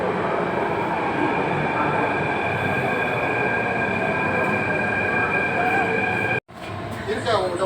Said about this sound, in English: So I think our metro has arrived.